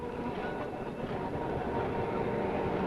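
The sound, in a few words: South London tram passing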